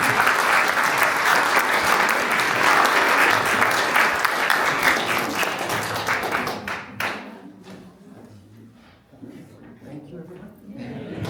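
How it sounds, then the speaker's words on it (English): Audience applause at a song and storytelling event, loud dense clapping filling the first seven seconds, then thinning to scattered claps and fading toward the end. "one more round of applause for Michael Collins."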